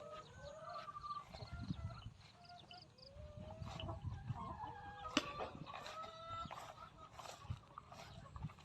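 Domestic village chickens cluck and call repeatedly at a Thai farm garden, with a rooster-like crow and other birds mixed in, steady and close over a busy outdoor background with low rustling.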